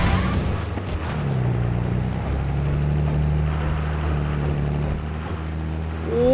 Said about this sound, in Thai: ฟังเสียงรถดิทุกคน